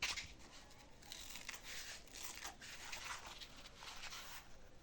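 Trimming a homemade sandal insole gives faint, continuous scratchy cutting and crinkling, a soft hissy rasp that swells and fades in short strokes with no pauses or talk.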